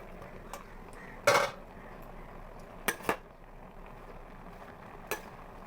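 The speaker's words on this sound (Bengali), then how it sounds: "এগুলো মজে যাওয়ার পর আমি এখন ঢাকনাটা খুলে দেব।" A metal lid comes off a pot of simmering taro stems: a sharp clattering clank of metal on metal, then a couple of lighter clinks and a final soft tap, close by over a quiet kitchen background.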